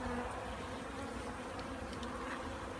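Honeybees buzz in a steady, dense drone that holds at an even level for the whole stretch, close by and with no voices.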